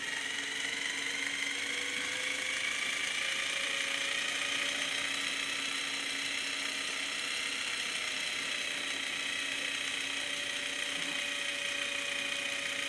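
An AS100 anti-skid drive system spins up to 1,800 RPM with a steady mechanical whir and high-pitched whine, tones gradually rising, constant and fairly faint with no voices.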